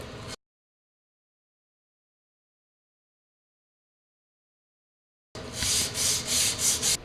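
Hand sanding of a wooden part: after a brief scrape and a long stretch of silence, a quick series of rhythmic back-and-forth rubbing strokes follows, close and moderately loud.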